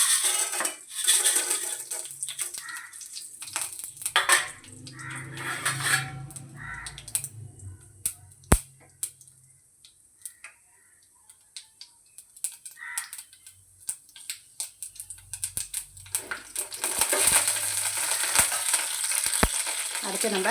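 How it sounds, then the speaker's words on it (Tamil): Mustard seeds and chana dal frying in hot oil in a kadai, a close crackling sizzle with scattered sharp pops, metal utensil clinks and scraping, quieter in the middle and louder again toward the end. "இப்போ ஒரு கடாயில் எண்ணெய் சேர்த்துட்டு எண்ணெய் சூடானோன்னே கடுகும் கடலைப்பருப்பும்"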